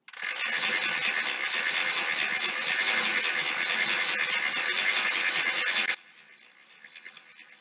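A continuous whirring, ratcheting rattle of a bicycle chain backpedaled through a Park Tool chain cleaner runs for about six seconds, then stops abruptly, leaving faint clicks.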